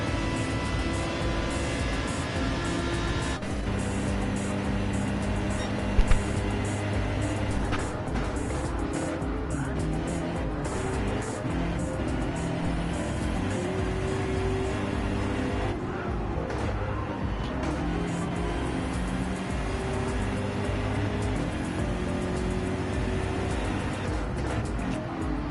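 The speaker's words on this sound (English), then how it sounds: "Phil's Aston Martin is absolutely the best sounding car here on track today" An Aston Martin GT3 race car's engine roars on track at Watkins Glen, a loud, sustained, high-revving note with shifting pitch that stays prominent throughout alongside other race car noise.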